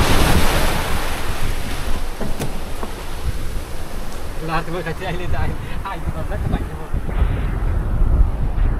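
Fierce sea waves surge and crash around a fishing boat out on open water, with loud rushing water and heavy wind buffeting the microphone, while people speak over the noise.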